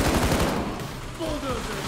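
Gunfire in the video game Payday 2 comes as a rapid, dense burst of automatic shots, loud and close, over a short stretch, with voices partly audible beneath.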